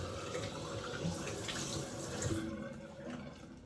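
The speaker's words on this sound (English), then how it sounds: "Now I gotta like coat my face with water first." Tap water runs steadily into a sink while someone splashes water on their face, giving a close, continuous rushing that tapers slightly near the end.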